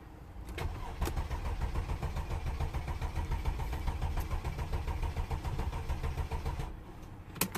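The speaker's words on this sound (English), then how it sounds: "okay, one more time, and we'll start the engine next." A Mercedes OM642 V6 CDI diesel engine cranks and fires, then runs with a steady, loud, rumbling idle for several seconds before cutting off, with no talking.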